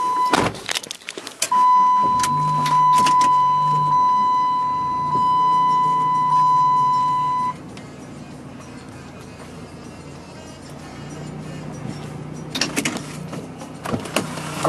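A tricked-out PT Cruiser show car cranks and starts, then runs with a steady engine hum alongside a sustained electronic chime, which later fades to quieter idling and clicks as the car pulls out into sunlight.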